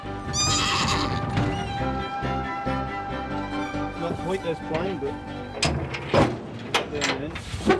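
Horses and young foals neighing and whinnying in the wild Scottish countryside, with hooves clip-clopping nearby and some talk around them.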